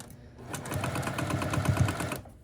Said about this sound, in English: now we're going to sew along the line of A5 and this group